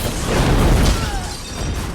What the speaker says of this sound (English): he sets up a chemical explosion and bolts